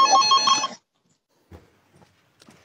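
A telephone rings with one loud burst of electronic ringing, followed by faint scattered knocks and rustles.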